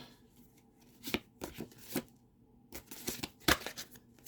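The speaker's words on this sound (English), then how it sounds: "let's try to shuffle cards that are coming out" Tarot cards being shuffled by hand, giving a run of dry riffling and slapping bursts in uneven clusters, close and fairly quiet with brief pauses between them.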